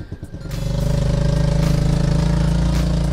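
A Honda Helix CN250 scooter engine starts and settles into a steady, throbbing cold idle while warming up, close and loud, with no talking.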